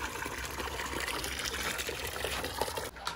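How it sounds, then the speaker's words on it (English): Water is poured into a toilet to fill it, a steady close splashing and gushing stream of liquid running for several seconds with no talk. "we can just fill it in here, or you can just pour it right in the bowl"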